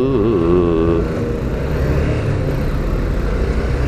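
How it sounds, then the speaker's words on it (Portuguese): A motorcycle engine idles and runs with a steady, throbbing rumble close by, slightly revving early on before settling into an even drone. "Olha o barulho da tatiazinha."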